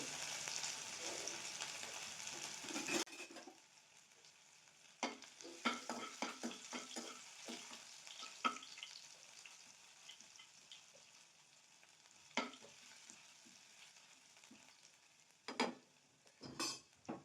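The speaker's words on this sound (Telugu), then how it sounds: "కొంచెం అల్లం వెల్లుల్లి వేస్తాను దాని కొంచెం ఫ్రై పచ్చి వాసన పోయే ఫ్రై చేసుకోండి" Ginger garlic paste frying in a pan for a prawn fry, a soft steady sizzle broken by scattered scrapes and clinks of a spoon stirring, with a few sharper knocks near the end.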